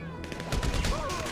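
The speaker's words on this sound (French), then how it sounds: "Vous tirez de petites rafales" Short bursts of gunfire in GTA 5, loud rapid shots layered with in-game effects, while a person talks over them.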